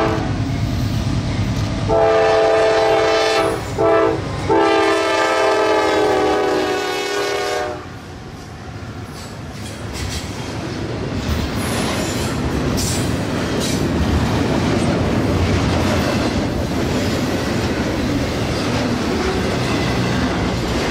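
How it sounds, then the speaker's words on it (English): Northbound intermodal freight train 202 passes close by, opening with a loud, sustained horn blast broken by brief gaps, then giving way to a steady rumble and clatter of railcars rolling past. "northbound intermodal train 202"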